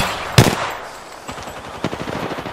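Gunfire in the battle royale video game Apex Legends: a sharp loud shot opens, then after a pause come rapid bursts of automatic weapon fire, close and punchy, with no talking.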